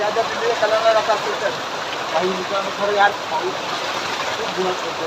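Steady rain hisses close by, a dense broadband patter, while voices talk intermittently over it.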